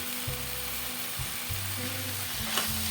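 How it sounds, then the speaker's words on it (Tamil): Grated coconut is sautéed in a pan for spicy lemon rice, giving a soft, steady sizzle beneath repeated low humming bursts, probably from a nearby appliance, with one faint scrape near the end. "நம்ம துருவின தேங்காயும் சேர்த்துருவோம் ஏன்னா நமக்கு தேங்காயிலையும் ஈரப்பசை இருக்குங்கிறதுனால அதையும் நம்ம ஒரு வதக்கு வதக்கணும்"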